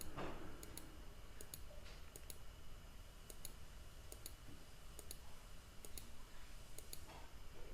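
Quiet computer mouse clicks repeat at a steady, regular pace, roughly one sharp double click per second, over a faint background hiss.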